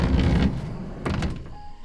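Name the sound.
sliding door of a camper van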